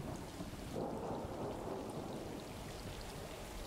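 Steady rain pours down with a low, rumbling roll of thunder beneath it in the video game Stray, continuous and fairly faint, with no voices.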